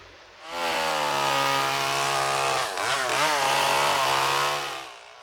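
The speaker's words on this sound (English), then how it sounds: "A chainsaw?" A chainsaw carving a big block of wood roars at high, steady revs for several seconds, briefly dipping and rising mid-cut before settling back, loud and close with no voices.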